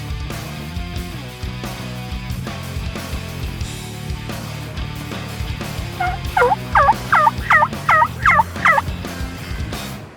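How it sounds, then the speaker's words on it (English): Two wild turkey toms gobbling in a Kansas field, several loud rapid gobbles bunched together in the second half, close by over a low rumbling background, with no talking. "when we were lucky enough to call these 2 gobblers in the field"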